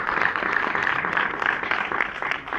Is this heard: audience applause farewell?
yes